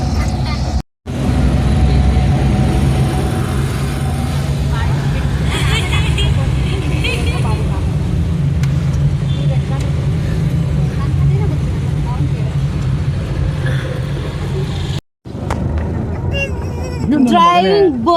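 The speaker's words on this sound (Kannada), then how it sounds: "ಅಜ್ಜಿ ಆತನ ಜೊತೆ ಮೊಮ್ಮಗ ಕಾರ್ ಡ್ರೈವಿಂಗ್." A car driven along a road with a grandmother and grandson aboard, heading home from a temple visit: a steady, loud engine and road rumble runs throughout, with two brief cutouts and people chattering over it.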